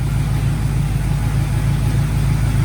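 A Camaro engine runs steadily after a gas tank replacement, a constant low rumble heard close up for a few seconds with no talking.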